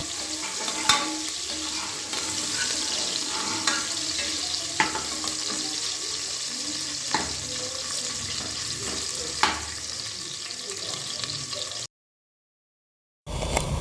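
Three or four medium onions, sliced lengthwise, fry in hot oil in a pressure cooker, giving a steady close sizzle with occasional stirring clacks until it cuts out near the end.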